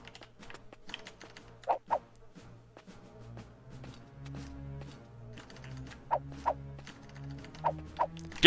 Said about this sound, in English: I'm changing my keyboard type.